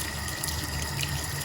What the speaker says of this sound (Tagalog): Hugasan ko lang po siya.